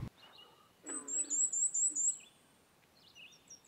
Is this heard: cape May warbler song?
yes